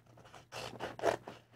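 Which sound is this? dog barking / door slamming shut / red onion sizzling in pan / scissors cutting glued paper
scissors cutting glued paper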